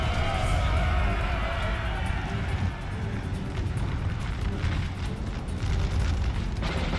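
Artillery cannons boom and explode across a battlefield in Napoleon Total War 3, a loud, steady barrage of overlapping blasts and rumbling that never lets up.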